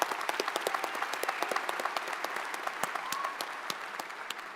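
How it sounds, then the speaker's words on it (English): A crowd at a university spring commencement ceremony applauds, with scattered sharp individual claps standing out over a softer, even bed of clapping throughout. "applause."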